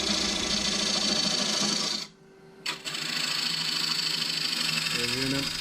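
Wooden bowl being turned on a lathe: a loud, steady whirring and scraping of the tool cutting the spinning wood, briefly dropping out midway before resuming at full strength.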